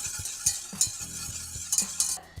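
A small whisk stirs a mixture of milk, sugar and a pinch of salt in a bowl, giving quick, rhythmic scraping and clinking strokes, close and fairly loud, with no talking.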